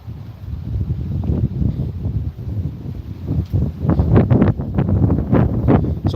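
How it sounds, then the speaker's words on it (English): Strong wind buffets an outdoor microphone in steady low rumbling gusts, growing rougher and more turbulent toward the end, with no voices. "Too much wind over here."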